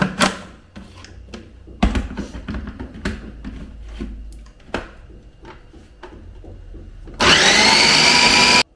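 A mixer grinder jar whirs loudly as it grinds ingredients for a tomato chutney, a sustained high motor roar that bursts in near the end after a stretch of quieter kitchen clatter and scraping.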